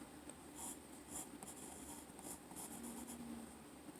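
Soft, continuous scratching of a 4B pencil drawing on toned paper, faint and close, with light irregular strokes and no talking.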